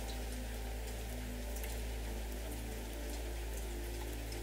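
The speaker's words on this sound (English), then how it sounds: "As you listen to the sound of the rain" Gentle rain falls in a steady, even hiss that carries on without a break, soft and continuous with no voices.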